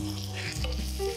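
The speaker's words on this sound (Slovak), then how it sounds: "Tá cibula nech sa opraží dobre" Chopped onion fries in a pan for a potato tartiflette bake, giving a steady, close sizzle with soft crackles and a brief stir partway through, with no talking.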